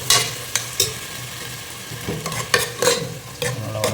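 Chopped tomatoes frying in oil with paste in a pan, a close sizzle broken by several sharp scraping stirs and clinks of a utensil, loud and irregular, with no voices.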